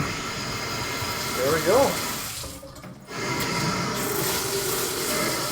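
Water from a newly installed single-handle faucet runs steadily and close by, with a brief surge and a short pause before the flow resumes, while a person speaks briefly over it.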